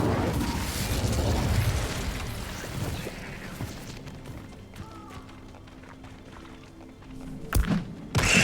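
A fire spell bursts out in the Hogwarts Legacy video game, a loud whooshing rush that fades into quieter rumbling, followed by a sharp thump near the end.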